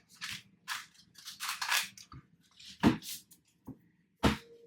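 Tarot cards shuffled by hand in a quiet room, a series of soft riffling bursts and a few sharp taps, close and faint, with no talking.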